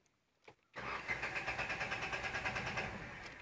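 A Renault Triber that will not start cranks after a couple of faint clicks, the starter giving a loud rapid rhythmic churn that keeps going without catching, close up with no talking.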